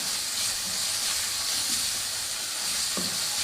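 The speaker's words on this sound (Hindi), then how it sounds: "तो सबसे पहले हम ये पालक फ्राई करते हैं।" Spinach fries in oil in a pan, a continuous steady hiss and sizzle with a faint clink near the end.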